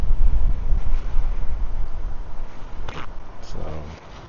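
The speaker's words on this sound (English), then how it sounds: "And here comes the wind." Strong gusts of wind roar across an outdoor microphone during a plein air painting session beside submerged rocks, a loud continuous rumble with brief knocks near the end.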